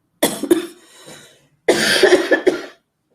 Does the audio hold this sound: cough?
yes